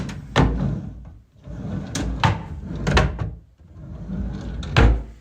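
Wooden drawers in a student study room slide open and shut in quick succession, each closing with a dull thunk, several times over a few seconds, close by and with no talking.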